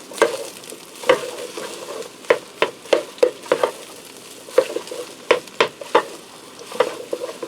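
A spatula stirs crack potatoes around a Ninja Speedi bowl, producing irregular scraping knocks and soft shuffling of coated potatoes over a low sizzle, close and distinct with brief pauses between strokes.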